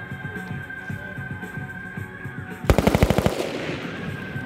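A SAW light machine gun fires one short burst of about five to six rounds, loud and close, after a stretch of distant voices and low rumble outdoors.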